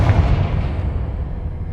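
Confringo blasting spell exploding in a wizarding video game: a loud, low rumbling blast that rolls on and slowly decays, heard alone without speech.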